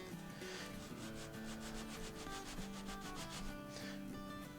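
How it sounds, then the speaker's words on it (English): Rapid rhythmic rubbing strokes of sandpaper on a wooden steel-string guitar back brace, quiet and close, repeating in short back-and-forth bursts with a faint hum underneath. "now this is almost to the point where we can just start sanding it"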